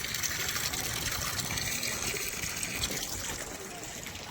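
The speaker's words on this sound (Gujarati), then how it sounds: "દિવાલના અંદરથી ભૂંગરા રાખેલા છે જો ભૂંગરા દેખાય આમાંથી ને પાણી આવે જો" Water gushes from pipes set into a wall beside a village river, a steady rushing flow heard close, while someone talks over it.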